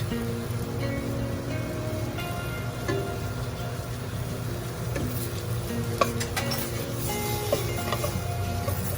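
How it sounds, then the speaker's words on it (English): Chili and coriander powder sizzling in hot oil for traditional sambar, a steady close crackling fry with occasional scraping stirs of a spoon in the pan, no talking. "We're just allowing the raw chili powder and the coriander powder to cook a little bit in the oil"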